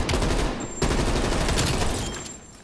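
Rapid bursts of gunfire crackle continuously with booming blasts, a dense, loud barrage of game combat without talk.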